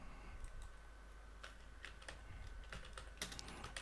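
Rapid keystrokes on a computer keyboard while filling in a table in MS Access, a steady run of light clicks with a few sharper taps, close and fairly quiet, with no talking.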